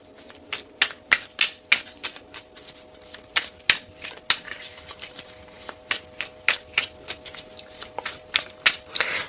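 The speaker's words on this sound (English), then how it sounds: "I know everybody hates the shuffling." A deck of tarot cards is shuffled close by on a table, with sharp, rapid clicking riffles and slaps that come in uneven bursts throughout.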